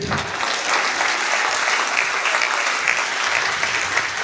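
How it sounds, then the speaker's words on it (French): Steady applause from an audience at a French talk, dense clapping sustained evenly throughout with no voices over it. "On peut applaudir Noé, s'il vous plaît"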